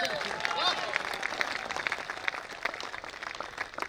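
Audience at a Hindi kavi sammelan poetry event clapping, a dense spatter of applause lasting several seconds, moderately near.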